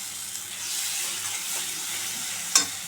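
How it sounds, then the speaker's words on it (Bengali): Dark, well-cooked masala paste fries with a steady close sizzle, stirred in a pan, ending in a sharp scrape or clink. "মশলাটা আমার ভালো করে কষানো হয়ে গেছে"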